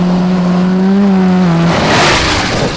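A budget 440cc two-stroke cross kart on a top speed run roars close and loud with a steady high engine drone. After a brief rise in pitch, the tone breaks into a rushing, noisy blur as the kart blasts past.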